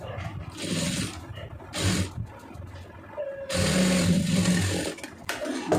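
A sewing machine stitching the folded hem of a plain blouse runs in several loud, close bursts with short pauses between them, whirring steadily during each run.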